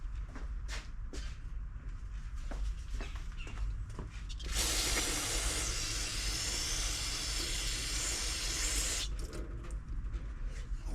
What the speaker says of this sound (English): Let me grab some carb spray.